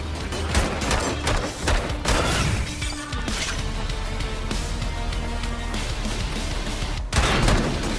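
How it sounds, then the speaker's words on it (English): Turrets fire in the video game Bunker Punks 2 as a dense, continuous barrage of loud shots layered over a steady background din, with heavier bursts at the start and again near the end. "Something somewhere from one of these two areas was shooting at me."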